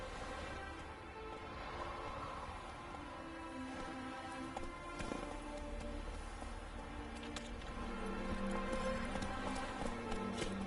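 Hooves of the horse Roach pound in a steady galloping rhythm in the video game The Witcher 3, moderately loud under an ambient game soundtrack and faint rain-like hiss.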